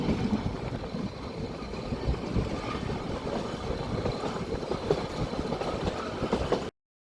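The Nilgiri Mountain Railway toy train runs between Ooty and Coonoor with a steady, continuous rumble and rattle of wheels and carriages, heard alone without talk until it cuts off.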